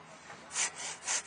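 A hand saw rasps back and forth through green wood in a few slow, rough strokes, close by and fairly quiet.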